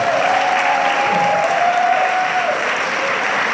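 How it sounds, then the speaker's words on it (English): A panel audience breaks into a midway round of applause, a dense, continuous wash of many hands clapping at steady high volume, with a faint whistle or cheer carrying briefly over the crowd. "How about just like a midway through round of applause?"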